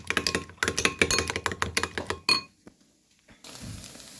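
Scrambled eggs being whisked in a bowl, a quick run of close clinking taps of utensil against the dish, then a pause and faint rustling.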